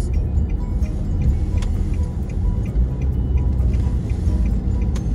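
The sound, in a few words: heavy road traffic, many cars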